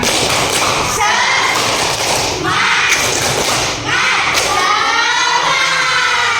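Students in a classroom perform a group clapping chant, loud rhythmic claps and thumps in unison punctuated by children's shouts and cheers, all close and continuous with many voices calling along.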